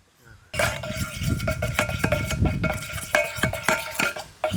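Chicken frying in a pan on the stove for a masala chicken omelette, heard as steady clattering and scraping of utensil against metal with sharp clinks and a constant sizzling hiss throughout, no one speaking.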